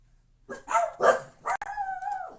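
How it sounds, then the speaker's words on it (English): Dogs bark close by, three or four quick sharp barks followed by a drawn-out whine, all fairly loud over an otherwise quiet room. "Sorry about that, guys. Dogs."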